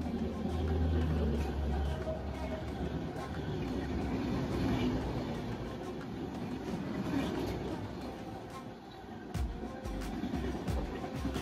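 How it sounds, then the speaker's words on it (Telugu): A train from Ajmer rolls into a station with a low, steady rumble of wagons and faint rail clatter, heard at moderate distance with light background voices. "ఫైనల్గా మన ట్రైన్ అయితే వచ్చేసింది"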